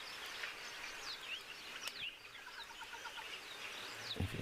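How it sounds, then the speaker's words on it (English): Birds call outdoors in nature, with repeated thin chirps and whistled trills over a steady insect-like hiss, all faint and distant, and a soft bump near the end. "Listen to any of the other birds that might be around."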